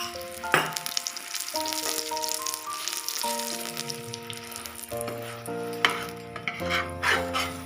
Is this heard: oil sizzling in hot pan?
yes